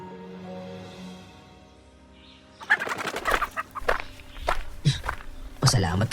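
Startled farm chickens squawk and flap near a hillside path while footsteps crunch past, the bursts loud and close, with a voice talking faintly at the start.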